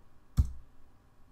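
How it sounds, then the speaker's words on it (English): A single sharp keypress on a computer keyboard, the Enter key pressed once, close and brief in an otherwise quiet room. "you can just press enter on the keyboard"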